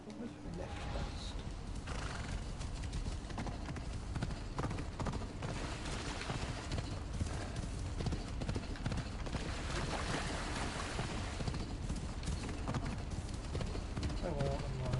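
Horse hooves clip-clop steadily through a PS4 video game scene, a continuous rhythmic trot under dense game sound and someone talking over it, with an occasional whinny.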